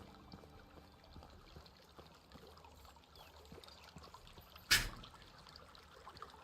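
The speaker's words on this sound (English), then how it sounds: "I hear a river." A river in the Medieval Dynasty game trickles and flows quietly, a faint low wash of moving water with scattered drips and one brief louder knock near the end, no talking.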